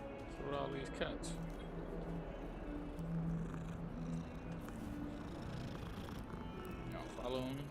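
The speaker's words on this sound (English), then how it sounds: "What are all these cats?" Several cats purr in a Hogwarts Legacy castle scene, a soft steady rumble running throughout beneath game music and someone talking over it.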